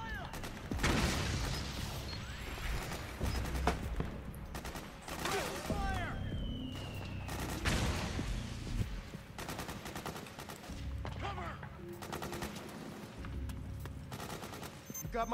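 Gunfire during a battle at a mansion in Metal Gear Solid 4, with repeated shots and bursts scattered through a busy, noisy firefight, mostly mid-distance and fairly quiet overall, along with mechanical clanks.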